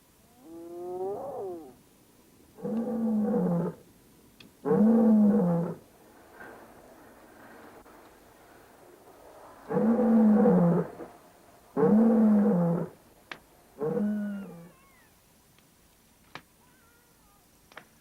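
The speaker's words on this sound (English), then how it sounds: "Hearing the deep-throated growl of a lion told us some animal was about to meet its death." A lion growls in deep-throated, rumbling bursts, about six of them spaced a few seconds apart, close and loud with quiet gaps between and no talking.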